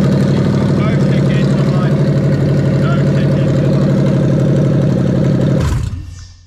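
A Toyota 1UZ-FE V8 car engine runs steadily at a loud, low idle with a rough rhythmic rumble, then cuts off abruptly near the end, leaving quiet.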